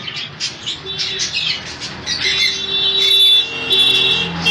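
Pineapple conure parrots squawk and screech in shrill overlapping bursts, several birds calling close by, with harsh repeated cries over a busy background.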